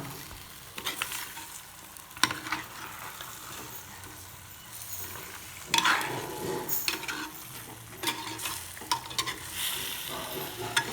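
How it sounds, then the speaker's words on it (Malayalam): Pre-cooked beef being stirred with spices and onions in a pan for a Kerala-style beef roast, with a steady soft sizzle broken by scraping strokes and sharper clanks against the pan, and no voices. "ഇതാ നേരത്തെ വേവിച്ച് വെച്ചിട്ടുള്ള ബീഫും കൂടി ചേർത്ത് കൊടുക്കുക ഇനി ഇതെല്ലാം കൂടി നല്ലോണം ഒന്ന് മിക്സ് ചെയ്തെടുക്കണം"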